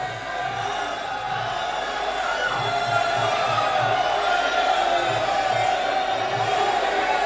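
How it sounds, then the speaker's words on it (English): Arena crowd at an MMA fight in Phoenix Fighting Championship, a steady roar of cheering spectators on their feet, continuous and fairly loud, with rhythmic chanting or drumming pulses underneath. "Crowd is on their feet."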